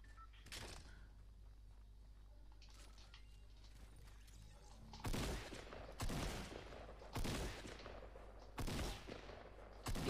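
Shotgun blasts in a video game: five loud, sharp booms roughly a second apart, preceded by a single earlier shot over a quiet low background hum.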